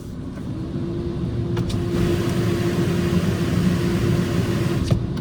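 A Ryko Softgloss XS2 car wash at a Shell station in Spring, Texas, its drive starting up with a steady mechanical hum and whine, close and loud, with a few faint clicks on top.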